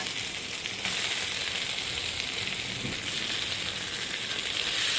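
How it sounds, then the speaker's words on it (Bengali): Boiled potatoes fry in a pan of cooked-down spice paste for a Bengali maida vegetable dish, giving a steady, fairly loud hiss and crackle throughout with no voices. "মশলাটা কষানো হয়ে গেছে, এর মধ্যে আমি সেদ্ধ করে রাখা আলুটা দিয়ে দিচ্ছি।"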